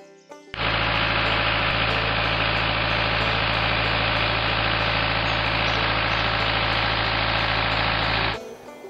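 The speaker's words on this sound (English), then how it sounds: "We pump our water out of the Piedra River with a John Deere diesel engine and pump." A John Deere diesel engine driving an irrigation pump that draws river water runs loud and steady at close range, a continuous droning hum with a low rhythmic throb, starting and stopping abruptly.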